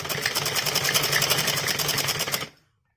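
An electric sewing machine stitches fabric for a top, a loud, fast, even mechanical whir with rapid needle pulses running close by for about two and a half seconds before stopping abruptly into silence.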